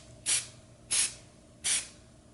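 Three short bursts of aerosol spray hiss, evenly spaced about two-thirds of a second apart, close by and fairly loud against a quiet background, spraying an MDF Christmas snowman decoration.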